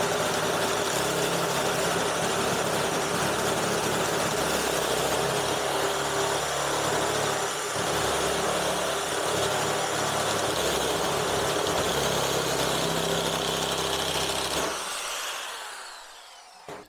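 A Lidl Parkside nibbler cuts through sheet steel in a loud, steady, continuous mechanical run with a rough chattering buzz that lasts about fifteen seconds and then cuts off abruptly, leaving a short quiet tail.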